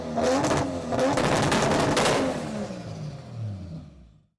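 A Nissan Skyline GT-R making over 700 horsepower revs hard, a loud, rapid crackling engine roar that peaks mid-burst and then falls away in pitch as it fades out.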